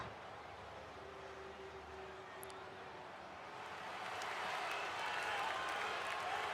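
Arena crowd in the WWE 2K24 wrestling video game, a steady wash of cheering and applause that swells slightly louder toward the end, with no talk over it.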